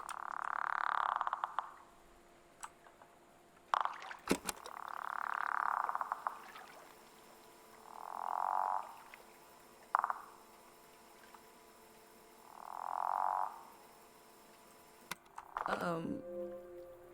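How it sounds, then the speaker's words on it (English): Several separate frog croaks, each a soft swelling call lasting about a second, come at intervals of a few seconds along a rural roadside on a road trip, with quiet background between them and a brief clatter near the end. "Oh, I hear frog. I hear a frog."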